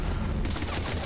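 Rapid gunfire from Mass Effect 3: Legendary Edition fills a short burst, a dense continuous crackle of shots at a loud, steady level.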